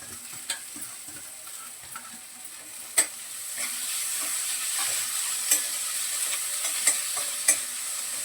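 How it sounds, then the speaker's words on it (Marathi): Chopped coriander stirred and fried in oil in a pan, a steady soft sizzle broken by sharp clicks of a utensil against the pan at irregular intervals. "थोडीशी अशी तेलामध्ये कोथिंबीर परतली तर चांगली लागते"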